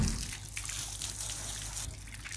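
Warm water pouring and trickling over a dog during a summer bath, a steady close splashing dribble with a slight swell near the end.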